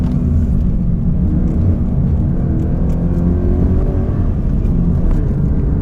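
A 200-horsepower Toyota GT86 climbing the winding Genting hill road, a loud, steady low engine drone and road rumble heard from inside the car, holding an even level throughout.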